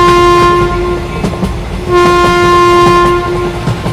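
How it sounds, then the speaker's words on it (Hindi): A cartoon train pulling into a station sounds a loud, sustained, tonal horn in two long blasts over a rolling rail rumble with faint rhythmic clacks. "तभी थोड़ी देर में इन लोगों की ट्रेन अगले स्टेशन पे आ जाती है।"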